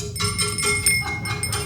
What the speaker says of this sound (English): Oh, you got a cowbell. That's even better.